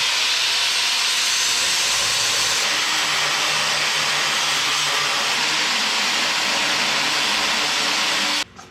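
An angle grinder with a worn-down cutting wheel and no guard cuts through steel for a steel target, giving a loud continuous high-pitched grinding hiss close by that stops abruptly just before the end.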